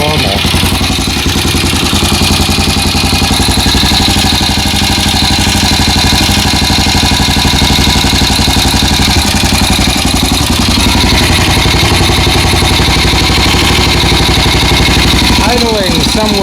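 A Triumph TR5MX motorcycle engine idling at around 700 rpm, a steady, loud, close mechanical putter running throughout with no pauses.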